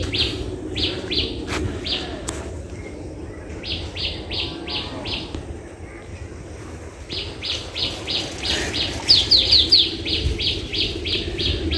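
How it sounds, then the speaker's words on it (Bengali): Small birds chirp in repeated bursts of high tweets among village trees and greenery, moderately near, over steady low outdoor ambience with a soft wind-like rush and no talking. "মাঝে মাঝে পাখির শব্দ শুনতে পাচ্ছেন।"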